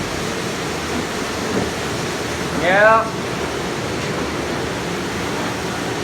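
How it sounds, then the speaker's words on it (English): A commercial kitchen dishwasher runs with a steady loud rush of water, a continuous broadband wash with a brief voice over it. "You hear that dishwasher kicking in?"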